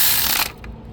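A ratchet wrench clicks rapidly while tightening a 12 mm bolt on the belt tensioner of a 2006 Kia Sedona 3.3L, a close, dense burst of ratcheting that cuts off halfway and leaves a quieter tail.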